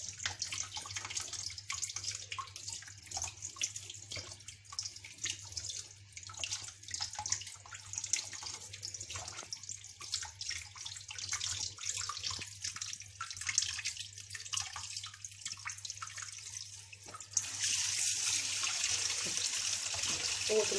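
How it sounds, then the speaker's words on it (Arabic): Tap water runs steadily into a sink while mumbar casings are rinsed under it, a soft continuous splashing at low level that grows a little brighter near the end. "قوة المية هتنزله على طول"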